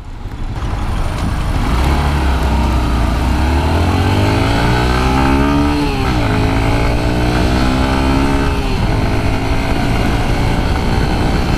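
Yamaha Crosser motorcycle engine idling close by, a steady loud rumble that rises in pitch with a rev around the middle before settling back, continuous throughout.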